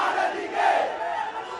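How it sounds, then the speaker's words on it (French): Hundreds of protesters shouting their anger at a street demonstration in Sri Lanka, a dense roaring crowd of raised voices that swells briefly and holds steady at close range. "Des centaines de manifestants crient leur colère."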